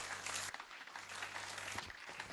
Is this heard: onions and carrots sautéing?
no